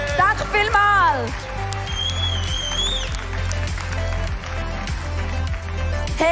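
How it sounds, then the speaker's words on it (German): Audience applause for Becky and Michi at a Sunday night church preshow, clapping underneath loud talk and a whooping voice, with music-like tones mixed in. "Ein riesen Applaus für Becky und den Michi"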